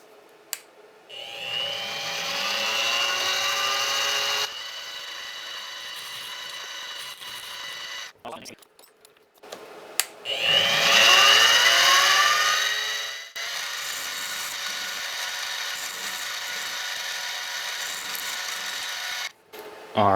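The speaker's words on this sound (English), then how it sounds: "I'm going to be using a 3/4 inch end mill." A 3/4 inch end mill squares off bog oak pen blanks in two loud passes of steady, high-pitched whining cutting separated by brief gaps and clicks, with machine hum continuing between cuts.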